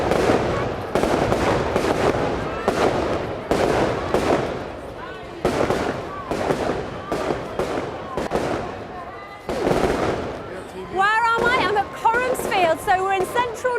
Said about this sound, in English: we got some great pictures of the fireworks